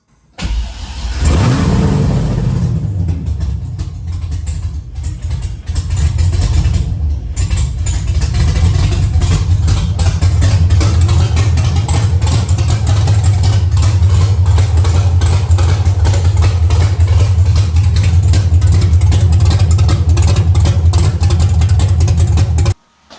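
An engine-swapped Corvette C6 Z06 cranks briefly, catches and fires up, then runs on in a loud, steady, slightly rough idle close by until it cuts off at the end.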